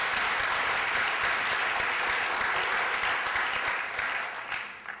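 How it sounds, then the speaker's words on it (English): A crowd at an awards ceremony claps warmly and continuously, a bright, full wash of applause that begins to thin and fade over the last second. "Let's clap for you."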